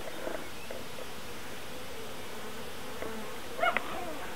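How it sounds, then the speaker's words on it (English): Dark honey bees bred in Denmark hum around an open nucleus hive, a steady, faint, close buzz that runs throughout, with a short rustle of handling near the end. "Lovely black bees."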